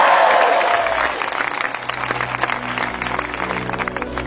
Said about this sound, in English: The crowd erupted into cheers, celebrating justice and